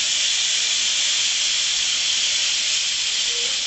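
Steam rushes from a pressure cooker as vegetable bhaji cooks inside, a loud, continuous, airy hiss that holds steady for several seconds with no pauses.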